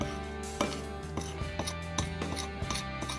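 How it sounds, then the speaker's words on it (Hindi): A spoon whisks pancake batter in a bowl, giving a steady run of light clicks and scrapes against the bowl over soft background music. "अच्छी तरह से इसको विस्क कर लें, ऐसे मिक्स कर लें, स्पून से मिक्स कर लें इसको"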